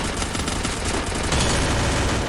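Rapid automatic gunfire in the battle-royale video game Free Fire, loud and continuous bursts of shots packed tightly together for the whole stretch, with no talking over them.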